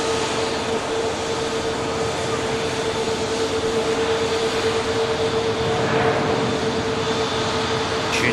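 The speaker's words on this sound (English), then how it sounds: "There goes Junior as the Virgin Atlantic continues the taxi now." A Virgin Atlantic airliner taxis at Manchester Airport, a steady distant jet whine and broad rumble holding at an even level throughout, with a faint voice talking over it.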